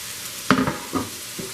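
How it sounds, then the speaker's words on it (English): Soft hiss of chicken for fajitas frying in a hot pan, with a couple of clinks and stirring knocks over the steady sizzle. "Can you hear that sizzle?"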